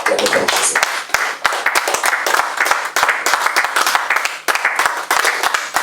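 A church congregation applauds and cheers in praise of Jesus Christ, a dense, steady wash of many hands clapping that fills the space for several seconds, with brief dips and rises in intensity.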